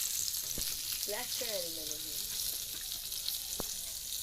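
Chicken sizzles and fries in a pan over a wood-fired clay stove, a steady bright hiss throughout, with a couple of sharp spoon knocks and a brief whistle-like tone.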